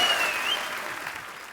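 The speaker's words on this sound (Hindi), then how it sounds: "जोरदार तालियां ऋचा जी के लिए" An audience on a talk show applauds a welcomed singer, a dense wash of clapping that starts loud and gradually tapers off, with a brief vocal tone heard at the start.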